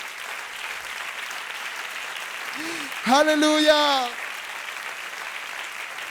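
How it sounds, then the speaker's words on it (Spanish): A church congregation applauds as a steady wash of clapping throughout, with a voice calling out briefly over it. "dale ese aplauso fuerte a Dios"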